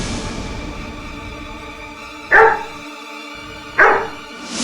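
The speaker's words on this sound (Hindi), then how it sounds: "ये कुत्ता इन्हें देखकर भौंक रहा था।" Two sharp dog barks, spaced about a second and a half apart, ring out in a courtroom scene of a Hindi crime drama, with a low steady room hum between them.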